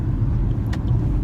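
Ford F-150 pickup engine idling steadily right after starting, following a spark plug change; a close, even low rumble with no talk.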